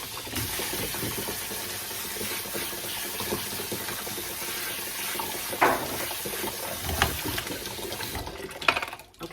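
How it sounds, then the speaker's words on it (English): Tap water runs steadily into a sink as chickpeas (garbanzo beans) are rinsed, a continuous close splashing rush for several seconds with a few louder knocks and clatters near the end, no talking. "Rinse."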